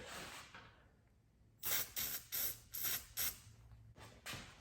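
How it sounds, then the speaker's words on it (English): A run of short spray lubricant bursts onto a 1972 Harley-Davidson Shovelhead, about seven quick hissing blasts in an uneven rhythm, close by, after a quiet stretch. "Let me put some spray lube on it"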